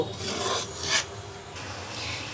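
Semolina is lightly roasted in a pan while a spoon stirs it. The result is a soft, continuous scraping and rasping with a few brighter scrapes, and no talk.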